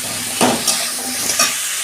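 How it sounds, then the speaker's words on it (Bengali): Vegetables with salt and turmeric fry in a pan, a loud close steady sizzle broken by three quick spatula stirs before stopping abruptly. "সবজিগুলো আমি 5 মিনিট মতন ভেজে নেব।"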